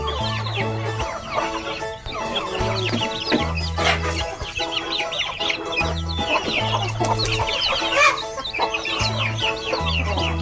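A foster hen clucks in low, repeated calls while newborn chicks peep constantly in shrill, overlapping chirps, all close and busy.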